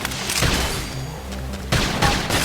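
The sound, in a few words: gunfire in the video game Xenoblade Chronicles X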